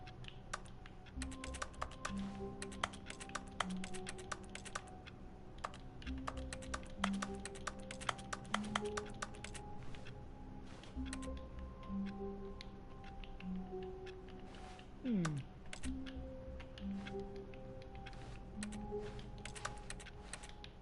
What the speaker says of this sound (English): I'm gonna keep playing with the keyboard.